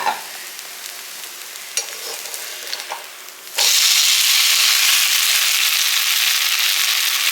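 A chana dal adai dosa cooks in oil on a pan: faint clinks and quiet frying first, then a loud, steady, close sizzle starts abruptly and continues to the end.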